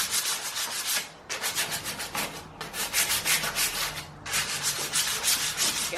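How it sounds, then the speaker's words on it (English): Sandpaper rubs by hand over wood for a sign in loud, close, rhythmic scratchy strokes, broken by a few short pauses. "what I'm going to do is just sand. Got a little bit of sandpaper, so I'll just make a start on this."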